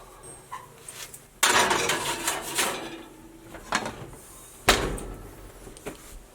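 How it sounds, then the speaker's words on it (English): An oven door thuds and clatters shut twice as a tray of ham and cheese sliders goes back in, with sharp bangs between softer kitchen rattles and handling. "We're going to pop her back in the oven for, I don't know, 6 minutes"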